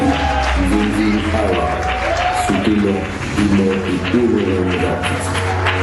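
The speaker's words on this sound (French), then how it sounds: "Sur vos applaudissements, merci." Audience applause fills the hall at the Nzonzing Awards ceremony at Hotel Memling as an honorary prize is presented, a steady dense clapping that runs throughout with voices and tonal sound layered over it.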